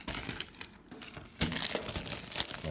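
A plastic bag crinkles softly and steadily as it is flipped over outdoors at night, close by with no talk, a fuller rustling burst halfway through.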